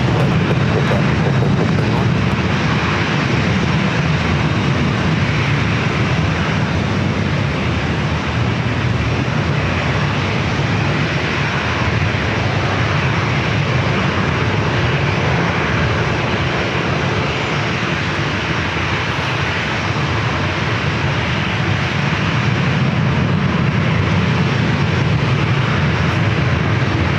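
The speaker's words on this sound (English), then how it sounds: "A Hornet F-18." An F-18 Hornet jet takes off at San Diego airport, a loud, sustained engine roar that holds steady throughout, with people talking over it.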